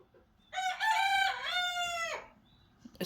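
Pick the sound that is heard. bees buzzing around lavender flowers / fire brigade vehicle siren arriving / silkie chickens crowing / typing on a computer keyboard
silkie chickens crowing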